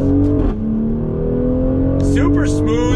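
Twin-turbo engine of a 2020 Mercedes-AMG GLC 43 SUV pulls hard under throttle from inside the cabin, a steady loud rising drone with a shift-like dip early on, and a voice speaks over it.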